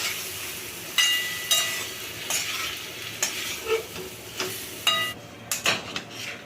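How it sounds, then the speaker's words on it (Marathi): A vegetable samosa filling with coriander is stirred in a pan, with a spatula scraping and knocking the metal at irregular intervals over a soft sizzle. "कोथिंबीर टाकूया एक जीव करून घेऊया ह्याचं मस्त"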